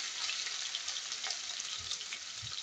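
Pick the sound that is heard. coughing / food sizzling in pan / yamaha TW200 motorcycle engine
food sizzling in pan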